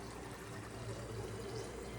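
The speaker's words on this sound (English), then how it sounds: "I go ahead and I start pouring all around these little marbles and that stone" Water is poured into a bottle over small marbles and a stone, a continuous faint gurgling trickle with a low burbling resonance lasting the whole stretch, with no talk.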